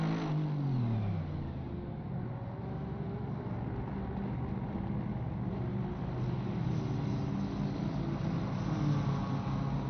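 A GT3 race car engine in an endurance racing video game set at the Nürburgring 24 Hours, holding a steady, loud drone with shifting harmonic tones for the whole stretch, and no voices.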